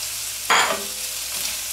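Onion, carrot and celery hitting hot oil with meat, a sudden loud sizzle burst that settles into a softer steady frying hiss, close and without talk.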